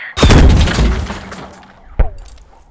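Gunfire in a tank video game: a loud close blast with a rumbling decay, then a sharper, shorter second shot about two seconds later, with no speech over it.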